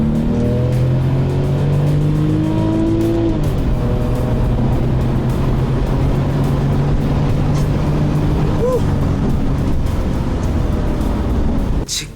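A Porsche 911 Turbo with a water-cooled turbocharged flat-six engine drives steadily, its loud continuous engine drone and road roar running throughout with shifting tonal bands and no pauses.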